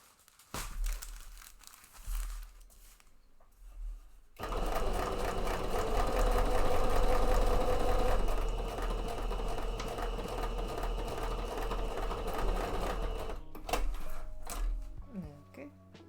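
A sewing machine stitches a cape mock-up, running in a loud sustained mechanical whir for about nine seconds before stopping, followed by fabric rustling and handling sounds.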